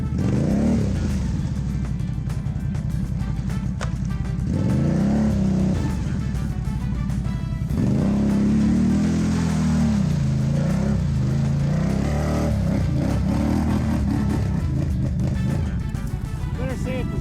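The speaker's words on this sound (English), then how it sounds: "Spinning on the ice." A Jeep Renegade on ITP MT911 tires spins its wheels on ice, the engine revving and surging with wavering pitch throughout, loud and close, under people talking.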